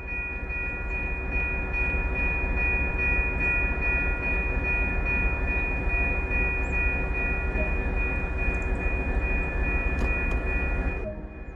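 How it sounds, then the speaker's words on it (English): Caltrain MP36PH-3C diesel-electric locomotive in Train Sim World, a steady loud drone of engine and rolling stock running continuously with a constant tonal whine, no talk. "Welcome to this MP36PH-3C diesel-electric locomotive in Caltrain livery"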